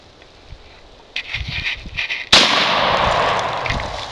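A 12 gauge shotgun fires once at a cellphone outdoors: a sudden loud blast after a few seconds of quiet handling noise, followed by a sustained rushing tail.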